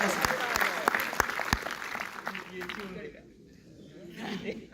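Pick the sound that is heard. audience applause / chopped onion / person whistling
audience applause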